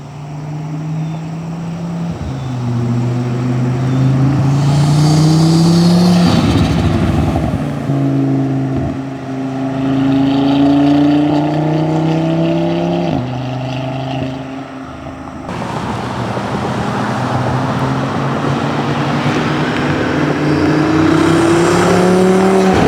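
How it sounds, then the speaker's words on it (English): An Audi TT RS with a CTS Turbo intake revs and accelerates outside the car, loud and near, engine pitch climbing through repeated gear pulls with turbo whoosh and flutter between shifts, no talk. "we're gonna try and get some turbo noises from outside the car"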